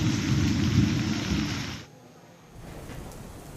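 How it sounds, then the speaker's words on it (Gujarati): Heavy downpour and thunder on Girnar mountain, a loud dense roar of rain with rumbling thunder that cuts off abruptly partway, then continues more softly as steady rain. "ગિરનાર પર્વત ઉપર ધોધમાર વરસાદ વરસ્યો છે"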